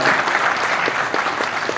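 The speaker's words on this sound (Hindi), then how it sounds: "एक बार जोरदार ताली अवधेश प्रसाद जी के लिए" Loud, dense applause from an audience at a Delhi gathering on minority constitutional rights, hailing Awadhesh Prasad. The clapping is close, sustained and steady, with no voices.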